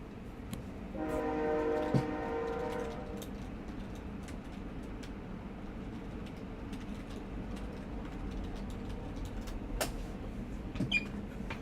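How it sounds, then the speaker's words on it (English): A passing train sounds its horn in a sustained multi-tone blast lasting a couple of seconds, then a steady rumble of rolling cars carries on in the distance. "I got a train coming through."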